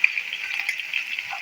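Garlic ginger paste frying in a pan, a brief steady crackling sizzle, close and fairly loud, with no voices over it.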